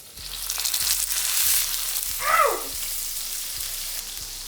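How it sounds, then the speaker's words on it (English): Steak searing in hot grapeseed oil in a pan, a loud continuous sizzle with faint periodic ticks underneath and a brief swooping squeak partway through. "I'm gonna flip my steak over to get seared on the other side"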